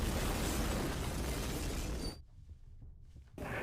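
Building explosion in a film scene, a loud, dense blast with debris rumbling on for about two seconds before cutting to near silence, then a brief return of noise.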